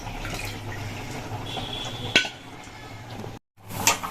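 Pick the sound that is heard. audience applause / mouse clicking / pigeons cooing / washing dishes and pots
washing dishes and pots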